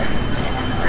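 A small sushi conveyor delivery train at a Genki Sushi restaurant rumbles and whirs along its track in a steady, close, noisy rush, with a faint high whine above it.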